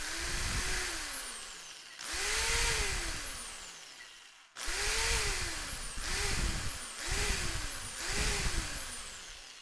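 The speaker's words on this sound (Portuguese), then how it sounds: "nós vamos ligar uma furadeira aqui na saída para ver como é que ele se comporta" Electric drill powered from a solar inverter's output, its motor whining up to speed and winding down in several separate bursts, close and steady, with no talking.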